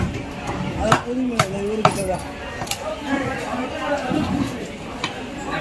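Lake bat fish is chopped at a busy fish market, with repeated sharp knife strikes and clinks ringing through steady crowd chatter and nearby voices.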